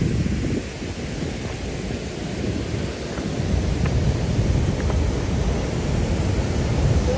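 Water waves wash steadily at an outdoor spot, making a constant broad rushing roar with faint splashes and a wind-like hiss throughout.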